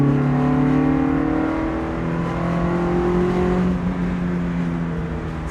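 An Alpine A110 rally car engine pulls steadily under acceleration, a loud, harmonic drone that rises slowly in pitch, heard from inside the car with road noise underneath.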